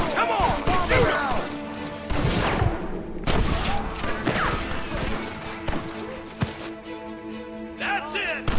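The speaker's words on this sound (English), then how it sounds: "Kill all of them! Come on! Shoot 'em!" Gunfire from an outlaw shootout in Red Dead Redemption, with repeated sharp shots and impacts scattered across a dense, busy game soundscape with music.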